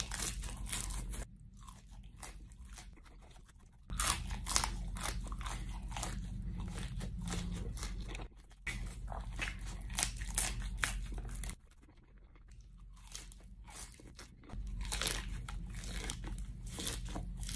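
Crunchy bites and wet chewing of Carolina Reaper spicy shrimp, close and loud, repeating in uneven bursts with short pauses between mouthfuls, no talking.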